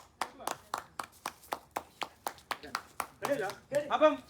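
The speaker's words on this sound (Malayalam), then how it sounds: "കൈയടിച്ച് പ്രോത്സാഹിപ്പിക്കാം." Steady, evenly spaced hand claps greet two guests arriving at an Onam prize-giving, then voices take over as the clapping ends.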